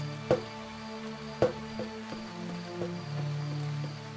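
Rain falls in the video game Starbound as a soft, steady patter, broken by a few sharp drop-like hits and set against a tonal game background, with no voices.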